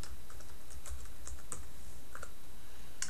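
Password being typed on a computer keyboard: a quick, irregular run of light key clicks, close and fairly quiet, with no talking.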